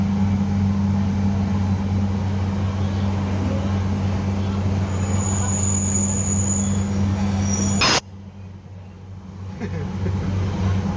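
A KRL commuter train from Jakabaring to Sultan Mahmud Badaruddin II airport in Palembang rumbles along the rails with a steady droning hum and a high squeal, then the noise abruptly drops and slowly builds again.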